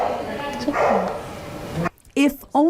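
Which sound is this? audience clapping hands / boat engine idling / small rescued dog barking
small rescued dog barking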